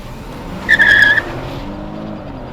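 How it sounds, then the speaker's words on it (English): Sporty V6 rear-wheel-drive car accelerating hard, with a sharp tire squeal rising briefly over the engine's steady roar as it pulls away. "It sounds pretty good when it starts revving up around the top end of the limiter"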